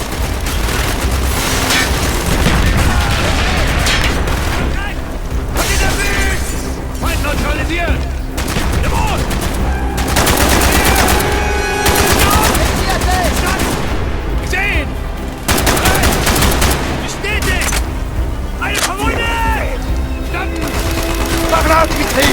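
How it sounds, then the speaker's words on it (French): Dense battle noise in the Call of Duty: Black Ops campaign, with continuous rattling gunfire, mortar booms and explosions, loud and close throughout, under occasional shouted voices. "Tire de mortier!"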